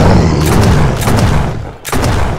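Video game gunfire in a foggy outdoor hunting game against hellhounds: a dense, loud rumbling fusillade of booming shots, sustained with a brief gap before resuming.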